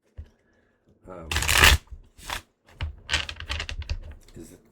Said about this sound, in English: let's pull a couple cards and see what the cards have to say